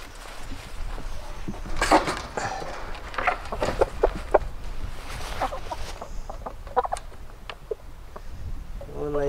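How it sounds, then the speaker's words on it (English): Chickens clucking and squawking close by in short irregular bursts, with rustling and scattered footsteps around them. "Should we let the chickens out?"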